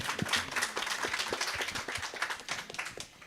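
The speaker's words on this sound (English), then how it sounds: "Give Dr. Garraway another round of applause." An audience at a Heart & Stroke Foundation event in Antigua and Barbuda gives Dr. Garraway a short round of applause, with brisk, moderately near clapping that thins out after a few seconds.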